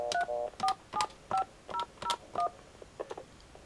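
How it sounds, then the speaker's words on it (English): A rapid sequence of telephone dialing tones on an NPSTN line, seven short beeps at a steady rhythm followed by a couple of fainter ones, clear and close with no talking. "if I were to dial something"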